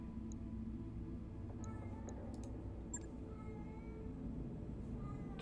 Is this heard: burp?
no